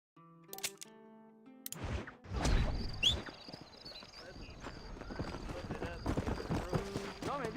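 Horse hooves galloping in the Western video game Red Dead Redemption, a steady rapid clip-clop under game music and ambience, with a voice talking over it and a brief whinny early on.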